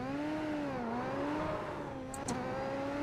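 A Super Formula SF23 race car engine in the sim game iRacing revs hard and steadily in first gear, its pitch climbing and dipping in waves. The sound is loud and continuous, with no pauses.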